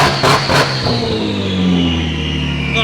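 A BMW with a swapped Toyota JZ engine revs hard, its exhaust barking in rising bursts, and a high turbo whistle then sweeps upward and fades, loud and close.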